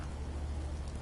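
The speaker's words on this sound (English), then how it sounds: "but the rain effects" Steady, soft rain patters down in the video game Fallout 4, a faint continuous hiss of drops on surfaces with no other sounds.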